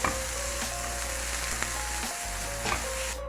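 Chopped vegetables and tomato sizzle steadily in hot oil in a pan, a close, dense frying hiss with small crackles throughout and no talking.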